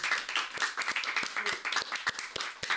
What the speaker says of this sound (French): On peut tous s'applaudir.